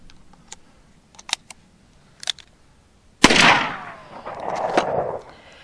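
A single .38 Special revolver shot fired at an outdoor shooting range, a loud sharp crack with a ringing, echoing tail, preceded by faint clicks and handling noises.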